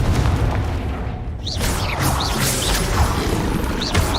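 Confringo spell blasts in the Hogwarts Legacy video game come as a dense, crashing explosion, a brief lull, then renewed rumbling impacts with sparkling whooshes, loud and continuous throughout.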